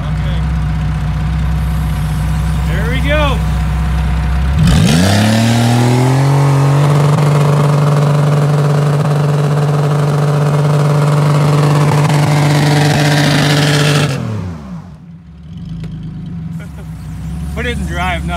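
A Buick car engine revving hard and holding at high, steady strain for about ten seconds, its loud droning roar rising and then falling away abruptly, with people talking before and after.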